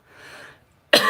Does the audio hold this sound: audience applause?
no